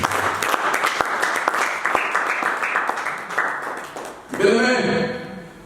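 A church congregation applauds and cheers in acclaim of Jesus, with steady rhythmic clapping and voices filling the room before a louder surge of raised voices near the end.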